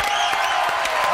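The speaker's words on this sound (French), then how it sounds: "Applaudissements, mesdames, messieurs." Brief burst of dense audience applause in a French television variety show studio, steady and close, with a faint musical tone lingering underneath.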